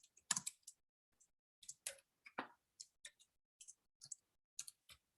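Keys clicking on a computer keyboard while typing into an Excel cell: a quiet, scattered run of individual keystrokes with short gaps, no voices.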